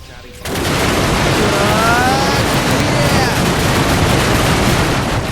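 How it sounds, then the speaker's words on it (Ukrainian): Gunfire in the Minecraft video game starts abruptly after a brief quiet moment and then rattles on as a loud, dense, continuous burst of shots mixed with other game effects. "Стріляю! Стріляю!"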